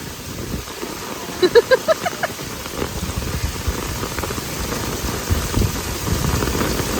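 Steady rain patters down in a broad hiss at an outdoor medieval festival, with a brief burst of voice-like sounds early on and a low rumble underneath throughout.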